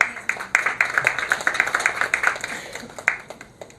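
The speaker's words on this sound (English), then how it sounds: "with a big round of applause, I would like to invite her to share her story with us today." Scattered clapping from a small audience at a Women's Day celebration, a few sharp hand claps repeating unevenly and fairly close, tapering off.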